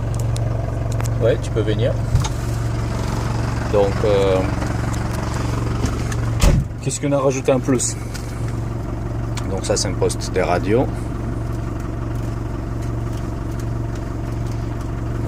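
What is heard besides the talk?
Ford Transit Chausson camper van engine idling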